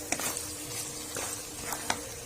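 A spoon stirs eggs into potato curry in a pan. The scraping strokes are brief and irregular, set against a soft, steady sizzle, with no talking.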